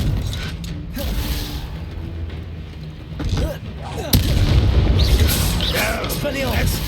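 Spell blasts from the Confringo fire spell in Hogwarts Legacy: a busy mix of mechanical creaks, low booms and a sharp crack near the four-second mark, with a voice speaking at moments.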